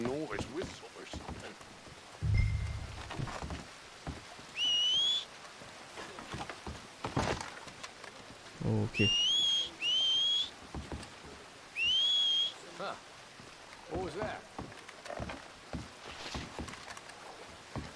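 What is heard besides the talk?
whistling from the video game Red Dead Redemption 2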